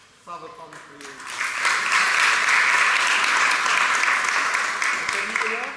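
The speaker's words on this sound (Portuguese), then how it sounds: "O Afonso, salva de palmas para ele." A brief spoken line opens, then a church congregation at a solemn First Communion breaks into loud, sustained applause, dense and steady before easing slightly near the close.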